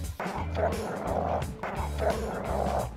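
Sniffer dogs at a park bark in two loud, close bursts of rough barks, each lasting about a second and a half, with excited voices mixed in.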